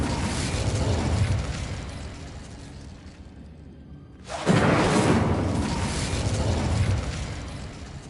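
Incendio fire spell cast in Hogwarts Legacy: a sudden loud whooshing burst of flame erupts after a brief lull, roaring broadly over ongoing combat noise.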